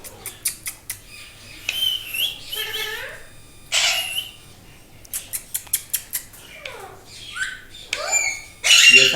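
Ringneck and alexandrine parrots squawk loudly and close by in repeated harsh bursts with short pauses, the calls overlapping in quick, irregular runs over a faint background hum.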